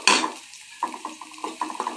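Green chillies frying in a pan, a burst of sizzle at the start followed by light, intermittent scrapes and taps of a spoon against the pan, close by.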